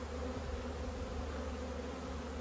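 Agitated honeybees at an open hive during spring brood inspection make a dense, steady buzzing swarm drone close by, with no talking.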